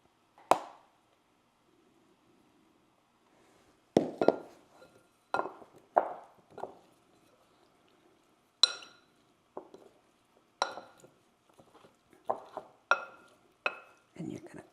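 Drained shredded canned pork tenderloin is tossed with cornstarch in a bowl, giving sparse, close clinks and knocks of a utensil against the dish, separated by short quiet gaps.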